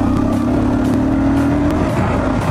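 A motorcycle engine revs as the rider pulls the throttle while riding, giving a loud, continuous droning roar with a slowly rising tone and steady road noise underneath.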